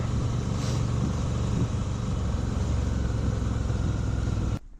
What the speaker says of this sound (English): The V-Strom's running well, it's running good.